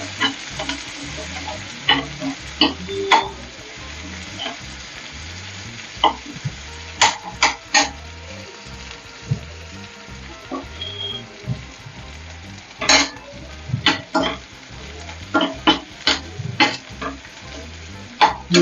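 Garlic, onion and curry leaves sauté with mustard seeds in a pan, giving a continuous close sizzle broken by frequent sharp stirring scrapes and clinks of a utensil against the pan.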